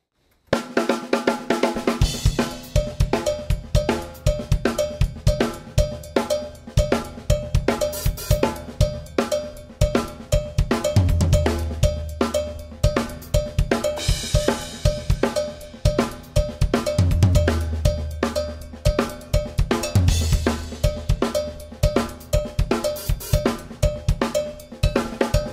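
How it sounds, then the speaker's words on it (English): Drum kit playing a 12/8 groove, with constant bright cymbal or bell-like pulses over periodic deep drum hits, loud and steady throughout. "So basically, this is a kind of a 12-8 groove."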